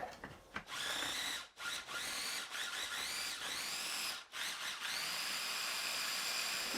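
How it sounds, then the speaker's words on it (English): Pumpkin seeds being ground for a nettle sauce in an electric grinder: a close, steady high motor whine that runs in several bursts, separated by brief stops. "And now we grind away."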